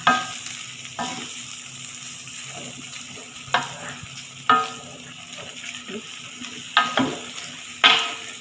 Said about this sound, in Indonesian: Aduk sampai aromanya.